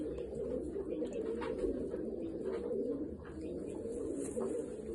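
Pigeons kept by a fancier cooing close by in soft, repeated low throaty calls, a continuous murmur with a few faint higher chirps above it.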